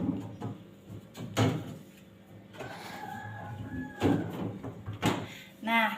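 Freezer door of a household refrigerator being opened and closed, with a few close thuds and rattles amid faint handling noise and brief background voices.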